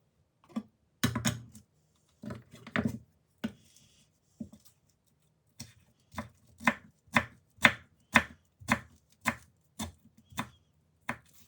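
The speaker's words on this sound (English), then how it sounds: "Place the leaves on top of each other and roll up into a cigar and slice." Knife slicing a rolled-up cigar of basil leaves on a cutting board, sharp distinct chops, a few spaced strokes at first, then a quick even run of about ten cuts, close and clear.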